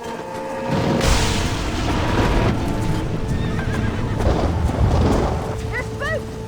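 Spooked horses whinny and neigh while hooves pound in a stampede in Red Dead Redemption, loud and continuous, with several sharp neighs rising toward the end and a voice talking over it.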